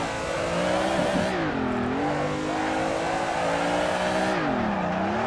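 A car in the Assetto Corsa racing game on PS4 drifting, engine droning and revving up and down steadily with tire squeal mixed in, loud and continuous for about five seconds.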